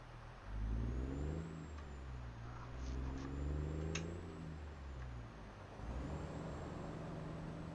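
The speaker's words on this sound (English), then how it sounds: "Oh, here comes a car." A car passes on a road in American Truck Simulator, its engine tone rising and falling as it goes by, over the steady drone of the player's truck. No one speaks.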